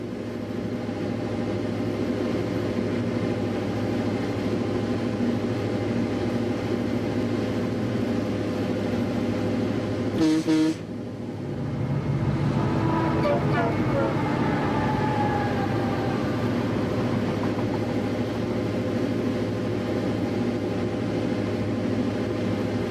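Northlandz model railroad train, the Northlands Express, running along its layout with a steady low rumble throughout, a short sharp interruption near the middle, then continuing under faint narration.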